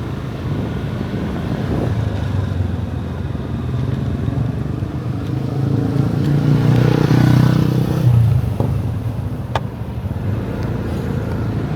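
A motorcycle rumbles past on a street in Barangay Camaman-an, Cagayan de Oro, Philippines, its engine swelling louder near the middle before fading, over steady traffic hum with no talking.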